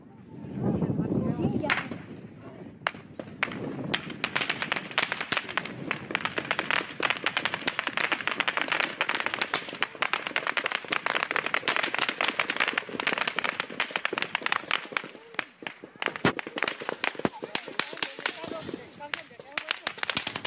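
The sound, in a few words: long-range gunfire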